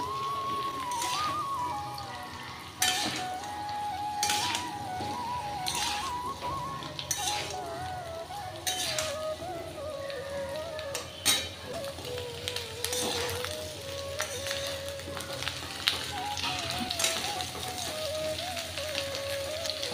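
Drumsticks and potato pieces fry in a pan, giving a steady close-up sizzle broken by repeated scraping and clinking strokes of a spatula stirring throughout.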